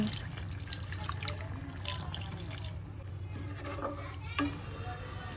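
A glass of clean water is poured into a cooking pot of seasoned chicken, giving a soft, faint watery trickle and splash under a steady low background hum, with one brief louder splash near the end.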